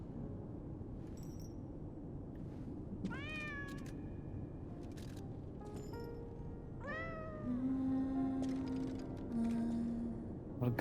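A cat in the game Lies of P gives several short, clear meows spaced a few seconds apart over a low ambient background, with a faint tonal hum later on.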